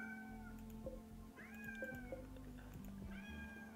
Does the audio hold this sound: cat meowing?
yes